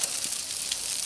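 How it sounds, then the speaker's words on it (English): Steady crackling sizzle of food cooking on a hot grill, a continuous hiss with small pops, fairly quiet and close. "that's where it's sizzling the most"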